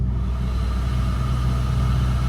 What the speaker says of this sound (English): Now this is the blower. You can put it back, you can hear it.